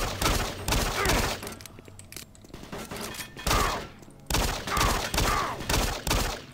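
Repeated gunfire from a weak starter weapon in the sci-fi shooter Doom 3, loud bursts of shots in clusters separated by brief quieter gaps, with the game's low ambient drone underneath.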